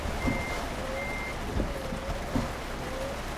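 A truck's reversing alarm sounds in Euro Truck Simulator 2, repeating evenly spaced beeps over the low hum of a diesel engine idling, with a brief thump partway through.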